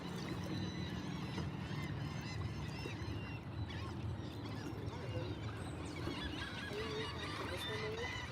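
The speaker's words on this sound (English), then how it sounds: "Bunch of seagulls." A flock of seagulls calls outdoors during a fishing trip, their cries rising over a steady wash of background noise, thickest in the last couple of seconds.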